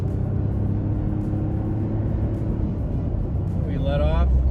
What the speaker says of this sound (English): We let off and the truck just instinctively wants to downshift into a totally manageable RPM band.